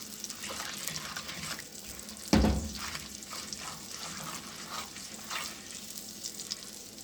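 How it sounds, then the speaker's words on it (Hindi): Spices are roasted in a pan for a winter radish and spinach saag, making a soft, steady sizzle with watery bubbling, and a sharp clatter partway through. "इसमें थोड़े को मसाले को हम लोग भून लेंगे।"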